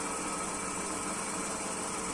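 A DC motor runs steadily during an RPM measurement in a lab test, giving a continuous broadband whirring hum with no change in pitch, loud and alone throughout.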